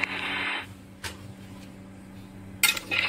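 Fried potatoes and cumin tipped into a cooking pot of mutton curry, heard as a short sizzling hiss at the start, then a soft knock, and metallic clinks of a utensil against the pot near the end.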